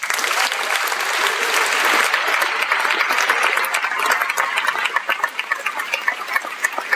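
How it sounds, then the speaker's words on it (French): An audience at a film festival awards ceremony applauds the co-directors, a dense, loud wall of clapping from many people that carries on for the full stretch and thins slightly toward the end. "il faut vraiment les applaudir"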